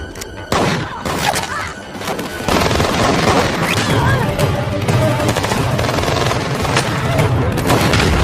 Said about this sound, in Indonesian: aksi tembak-menembak dari kedua belah pihak pun terjadi